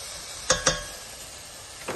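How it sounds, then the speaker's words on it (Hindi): Minced meat gravy sizzles softly in a pan as a utensil stirs it, with two quick scraping clacks near the start and another near the end over a steady low frying hiss. "अब हम इसे अच्छी तरह से मिक्स करेंगे।"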